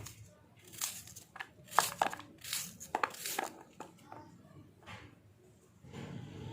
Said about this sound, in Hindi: 3 प्याज़ों को अब इसमें आपको काटने हैं। कैसे काटने हैं, ये इस तरीके से आपने बारीक काट लेना है।